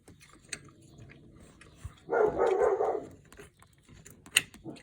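A dog gives a burst of loud, rough barking and growling close by for about a second, amid scattered clicks and handling noises.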